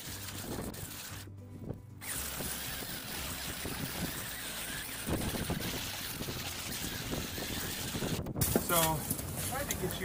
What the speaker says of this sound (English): So it's quite windy today